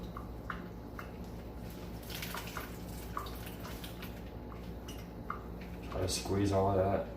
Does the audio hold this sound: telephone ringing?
no